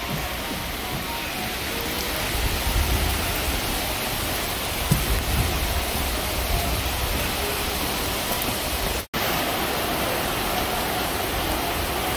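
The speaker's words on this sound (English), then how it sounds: "It is still absolutely pouring down here" Heavy rain pouring down at the DMZ in South Korea, a dense continuous hiss of rain on surfaces close by, with a brief dropout near the end and no talking.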